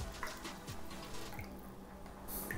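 Brandy and cola being poured into a glass, a steady trickling liquid splash with faint dripping, heard alone and close by.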